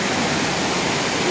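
Ditumabo Mother Falls in San Luis, Aurora Province, pours in a steady, loud, broadband rush of falling water, close by and unbroken.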